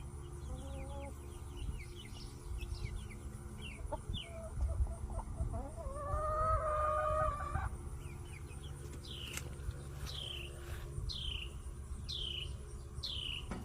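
Farm chickens cluck and squawk nearby while being offered food, with a rising drawn-out call in the middle and a series of repeated short calls toward the end over steady outdoor background noise.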